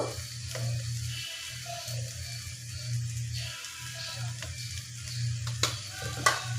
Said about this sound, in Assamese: এতিয়া এইখিনি আৰু অকণমান সময় মিলাই পেলাই ভাজি ল'ব